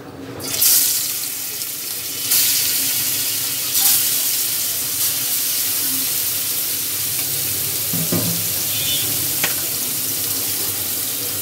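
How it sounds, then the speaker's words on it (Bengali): Dried red chillies fry in hot oil in a pan, giving a steady close sizzle with a few scraping stirs and clatters, without any voice. "এই যে আমি এইভাবে করে শুকনা মরিচটা লাল লাল করে ভেজে নিলাম।"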